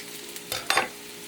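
A knife stirs potato stuffing with sage and egg in a pan, making two quick, close scraping strokes over a faint sizzle.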